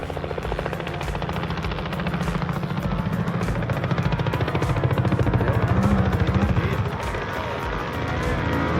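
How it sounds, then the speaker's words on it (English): A helicopter's rotor thumps steadily with a dense, rapid chop and engine roar, loud and close throughout without a break. "Let's take the chopper."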